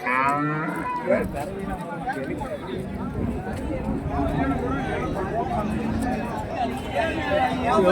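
Several cattle moo repeatedly over a busy crowd murmur at a cow market in Karimangalam, Dharmapuri, India, with low bellows rising and falling throughout, voices chattering in the background, and many calves present.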